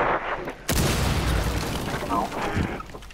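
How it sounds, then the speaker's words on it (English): A sudden heavy breach charge boom bursts out in Rainbow Six after a brief lull, followed by sustained rumbling and crackling debris, with game sound effects underneath. "Place down the charge, mate! Do it! Blow it!"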